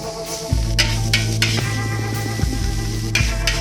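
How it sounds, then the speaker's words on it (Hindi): Chicken noodles with tomato sauce and soy sauce being stirred in a pan, repeated scraping strokes and soft clanks over a steady low sizzle and hum, close and fairly loud. "उसके बाद टमाटो सॉस डाल दिया, हम इसको अच्छा मिक्स कर लेंगे"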